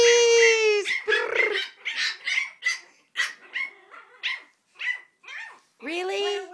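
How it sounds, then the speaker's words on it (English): Puppies bark and yip in quick, high-pitched bursts, close by and loud, one short cry tumbling after another. "Puppies!"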